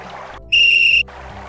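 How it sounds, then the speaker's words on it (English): A magic whistle blown in the video game Simon the Sorcerer gives one steady, bright, high-pitched tone lasting about half a second, loud and clear over a quiet game background. "It's a magic whistle."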